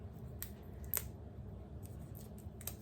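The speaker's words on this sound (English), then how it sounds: "So I now have some scissors." Scissors snip and cut into sticky, well-sealed cosmetic packaging, a few sharp clicks and crisp snips standing out over a low steady background hum, close and fairly quiet.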